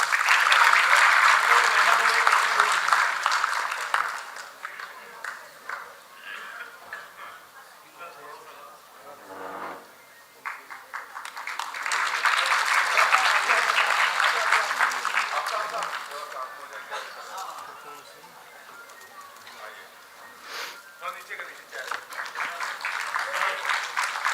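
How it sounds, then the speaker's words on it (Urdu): An audience applauds at a book release event at a literary institute, with two long waves of clapping, a quieter lull between them and clapping picking up again at the end. "ایک بار آپ کی تالیوں کی صدا ضرور ہو۔"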